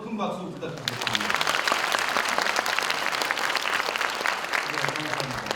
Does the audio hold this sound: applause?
yes